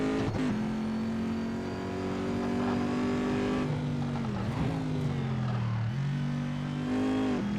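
Corvette race car engine in a VR racing game, a steady loud drone that holds pitch, dips briefly as it shifts or brakes, then climbs again, close and alone without talk.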